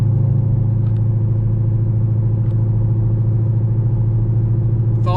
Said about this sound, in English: This is the loudest exhaust I've ever had on this car.